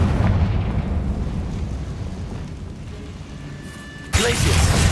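A fire-spell blast in Hogwarts Legacy, where a rumbling low drone gives way to a sudden loud, bright burst near the end that stays full and crackling, with a voice speaking over part of it.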